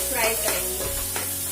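Corn and bell pepper frying with spices in an Indian home kitchen pan, a steady close sizzle with a few stirring scrapes over about a second and a half.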